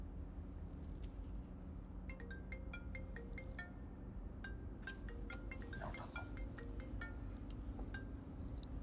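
A phone rings with a melody of short electronic chiming tones, fairly faint over a low, steady background rumble.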